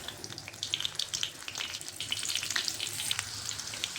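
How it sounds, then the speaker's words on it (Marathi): Slit green chillies fry in hot oil, giving a soft, continuous crackling sizzle with scattered small pops throughout. "तर आता मिरची तळून घ्यायची."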